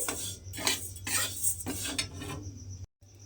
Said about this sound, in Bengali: এবারে গ্যাসটা লোতে দিয়ে চালটাকে আমি একটু ভেজে নেব।